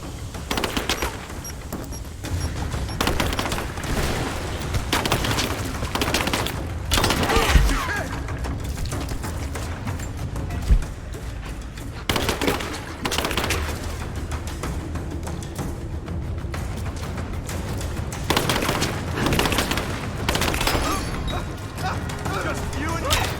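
Dense, continuous gunfire from the Rise of the Tomb Raider video game: repeated shots and bursts crackle over a busy, loud combat mix, with a few heavier thuds standing out along the way.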